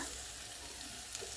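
A steady, faint hiss of sizzling curry masala in hot oil as fried potatoes and jackfruit are added, with no distinct splashes or stirring knocks. The sound is brief and evenly textured.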